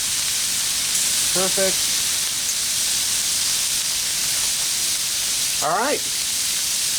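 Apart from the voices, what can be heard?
shrimp fajitas with butter sizzling on a Blackstone griddle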